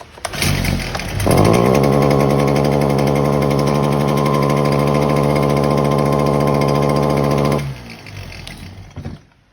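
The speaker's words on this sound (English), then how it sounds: "As you can see, the machine don't want to run." A Stihl HT 250 pole saw's small two-stroke engine cranks up and runs roughly for about six seconds, loud and close, then cuts out and dies away.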